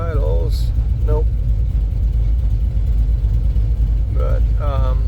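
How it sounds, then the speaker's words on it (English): A warmed-up car engine idles steadily with its radiator fan running, a low constant rumble throughout while someone talks over it in short phrases. "So yeah, it's warm. The fan's on. Let's see if the fan's turned on yet."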